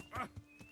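Quick clip-clop of horse hooves in the video game Kingdom Come: Deliverance, a few rapid hoofbeats with a faint whinny-like tone, quiet and short.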